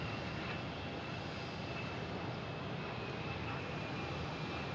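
United Airlines airliner arriving from Newark and landing on runway 27 at Boston Logan International Airport, a steady, moderately distant engine roar and rushing noise holding evenly throughout with no voices.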